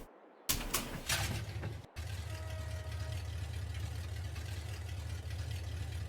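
A classic Ford truck engine in Farming Simulator 22 cranks briefly with a few loud bursts, then settles into a steady, low, rumbling idle heard up close and alone.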